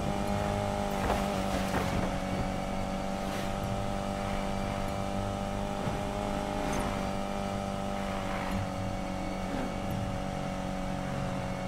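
A car engine drones steadily through a driving race mission in Need for Speed Payback, heading across Santa Curva Bridge, with a sustained loud hum and occasional brief revs and whooshes.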